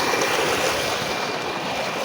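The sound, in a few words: borewell pump running, water flowing in a wheat field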